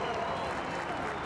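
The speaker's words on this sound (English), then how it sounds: "the crowd giving him a big cheer." Crowd applauding and cheering racing driver Jean-Eric Vergne as he waves, a brief dense burst of clapping and noise at steady moderate loudness, with no voices standing out.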